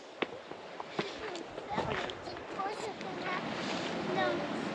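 A mountain river running through a wide valley in Pakistan, along the Shimshal track, makes a constant broad rushing roar mixed with wind buffeting, and faint voices come through now and then.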